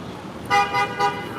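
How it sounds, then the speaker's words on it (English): Three short car horn toots in quick succession, fairly close, over a low background of street noise. "Getting some honks there."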